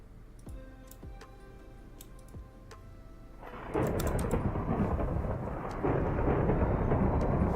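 Thunder in a Gregtech New Horizons storm breaks in suddenly as a loud, broad rumble that sustains and swells again, after a quieter stretch of scattered ticking clicks.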